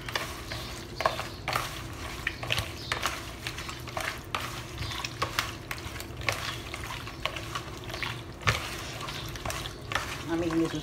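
Beef kidney stew stirred in a pot, with a spoon scraping and clinking against the metal in irregular strokes over a steady low simmering bubble, close and moderately loud.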